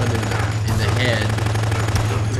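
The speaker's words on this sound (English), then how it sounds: "So I just shot him in the head." Gunfire in the zombie game Dead Rising comes as a dense, continuous rattle of shots over a low droning hum.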